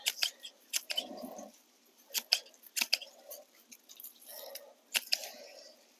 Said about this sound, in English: some of this basil just needs a quick trim back